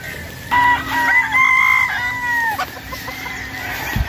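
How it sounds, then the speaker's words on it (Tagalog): A gamefowl brood stag crows loudly and close by at a farm, one drawn-out cock-a-doodle-doo over softer clucking and background farm noise. "Ito mga brood stag na to eh."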